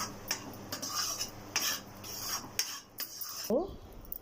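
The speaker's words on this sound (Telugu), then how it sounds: "ఇప్పుడు దీన్ని కలుపుతూ ఉంటామండి" A raw mango papad mixture is stirred in a pan, spoon scraping and rubbing the metal in repeated close strokes with short pauses, ending with a few clinks.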